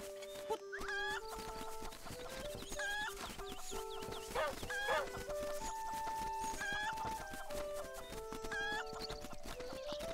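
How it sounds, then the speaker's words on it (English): A rooster in the Link's Awakening video game gives repeated clucks and squawks, scattered through game music and effects, moderately loud and without talk. "I like that you can just huck the rooster,"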